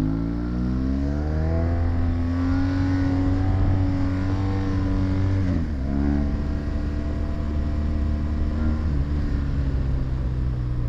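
A BMW motorcycle engine idles and revs steadily up close, its harmonic drone shifting pitch with a brief dip midway before climbing again, loud and continuous with no talking.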